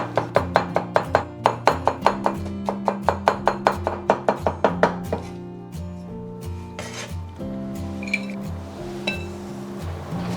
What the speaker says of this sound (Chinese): 我们先切片，然后我们再改刀切丝